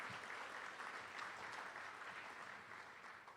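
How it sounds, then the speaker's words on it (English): Evening event crowd applauds its table sponsors, a dense even patter of clapping heard faintly and at a distance, alone without talk. "Let's give a round of applause to our table sponsors this evening."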